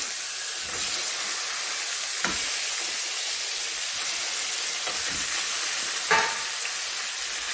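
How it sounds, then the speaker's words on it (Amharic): Meat sizzles steadily in a hot pan with red onion, a continuous close frying hiss broken by a few brief louder spits and stirring scrapes. "ስጋ እንደዚህ ሲጠበስ በጣም ቆንጆ ነው ማለት ነው።"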